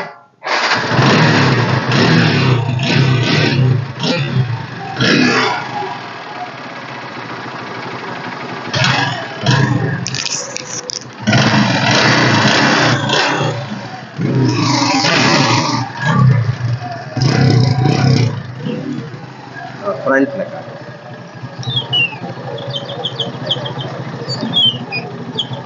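A Hero Splendor motorcycle engine starts on the self-starter, then revs in bursts and settles, close and loud. Faint background sounds run throughout.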